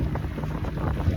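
Wind blows over a lake on a fishing outing, producing a continuous loud rumble and buffeting gusts against the microphone across a brief stretch, with no voices.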